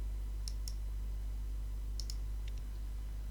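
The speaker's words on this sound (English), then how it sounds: "I confirm by clicking OK." Mouse clicks confirming OK in a wall-drawing design program: two quick pairs of sharp, faint clicks over steady low hum, then a few softer ticks, with no talking.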